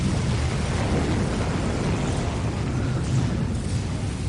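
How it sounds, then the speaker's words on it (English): A massive camp explosion in a Dawn of War cutscene rumbles as a continuous, loud, deep roar with sustained low-end blast energy throughout, no voices. "that massive explosion is Gorguts not actually being taken out, but slipping away and then detonating the camp"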